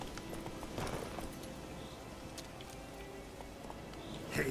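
A horse's hooves clip-clop at a steady pace in The Witcher 3, a quiet rhythmic patter under faint game ambience.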